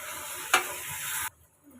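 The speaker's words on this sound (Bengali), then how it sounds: "এখন পরিমাণ মতো জল দিয়ে দিই।" Water goes into a pot of rice and meat for biryani with a hissing rush and a sharp burst at the start, then stops abruptly, leaving quiet.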